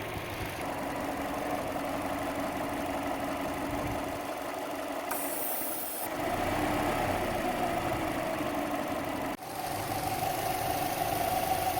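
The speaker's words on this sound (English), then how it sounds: "I've got the engine running" A 2005 Subaru Forester XT engine idles steadily during a Seafoam treatment, a low, even mechanical hum heard close and fairly quiet, with a brief hiss partway through and a single sharp click later.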